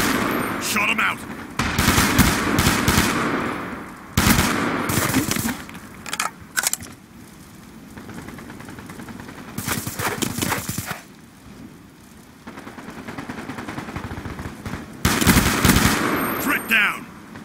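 FAL rifle fire in the video game Black Ops 2 comes in several loud, sharp bursts and single shots separated by quieter stretches of game ambience.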